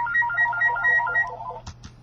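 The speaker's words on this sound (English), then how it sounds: "Wouldn't you know, the phone would ring?" An electronic telephone ringtone warbling in a rapid repeated pattern, fairly loud and close, followed by a couple of brief clicks as it stops.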